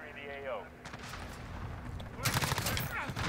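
In a Call of Duty: Modern Warfare match, gunfire crackles and a burst of airstrike explosions builds to loud, dense booms toward the end, with game sounds and faint voices underneath.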